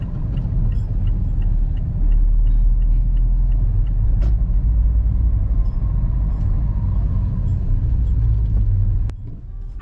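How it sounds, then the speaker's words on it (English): A car drives through a brand new housing estate built on a former colliery site in Annesley, giving a loud, steady interior engine and road rumble that eases near the end. "now I'm going to take you on a little drive around a brand new housing estate"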